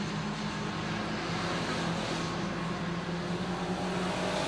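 Race cars roar along a racetrack in a continuous, dense engine drone, steady and fairly distant, with no voices heard.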